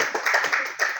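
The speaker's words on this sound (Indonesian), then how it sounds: "Oke, tepuk tangan kepada Wina." A classroom group claps for a student, a short burst of many hands patting together in uneven, overlapping rhythm, moderately loud and close, lasting about a second.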